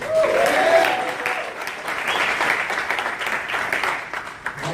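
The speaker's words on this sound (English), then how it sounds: "Give a round of applause back to Mr. Kyani" Audience at a business training event breaks into sustained applause, loud and dense at first, then continuing steadily with a voice speaking over it.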